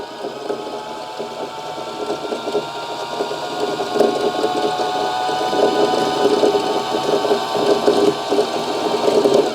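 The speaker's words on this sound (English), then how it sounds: "And then we move the bobbin winder over and the hand wheel out." A Baby Lock Zest home sewing machine winds a bobbin, its motor producing a steady, close whirring hum that grows slightly louder and holds constant for several seconds.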